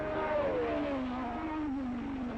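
Racing cars, among them a Ferrari and a Lotus Ford, roar together at the start of a Grand Prix. The engine howl is loud and continuous, with one strong tone sliding slowly downward in pitch, and no voices.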